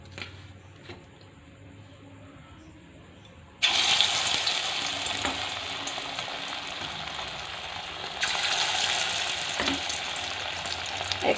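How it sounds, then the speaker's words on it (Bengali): Chicken pieces dropped into hot white oil in a wok on a gas stove, a quiet start giving way to loud, steady bubbling sizzle that swells again as more pieces go in, close and without talk. "এবার আমি চিকেনটাকে এক এক করে ভেজে নেব।"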